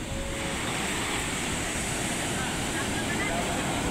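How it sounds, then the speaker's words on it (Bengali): Ocean surf on the beach at Puri rushes and breaks in a steady, loud broadband roar, with wind buffeting the microphone throughout. "দেখো সমুদ্রের ঢেউটা কত জোরে বেড়ে আসছে"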